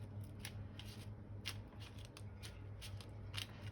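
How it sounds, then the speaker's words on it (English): Drying paper crinkling as it is pressed down with a sponge, soft crackling rustles in a steady stream with several sharper crinkle bursts, close by over a low background hum, no talk. "The crinkling is fine,"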